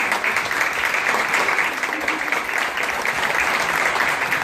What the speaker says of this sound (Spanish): Esperamos un aplauso.